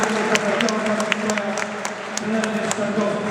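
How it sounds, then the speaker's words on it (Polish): A crowd applauds a team being introduced at a tournament opening, a steady dense wash of clapping with sharp individual claps standing out, under a low hum and some background talk throughout. "Brawa!"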